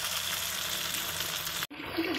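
Pathiri, a rice flatbread, fries in hot oil with a steady, dense sizzle close by that cuts out briefly before resuming more faintly.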